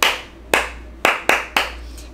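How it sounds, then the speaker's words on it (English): Hand clapping as a preschool classroom attention grabber, five sharp, close claps in an uneven rhythm, each ringing briefly before the next, with no talk over them. "Number 6 is hand clapping."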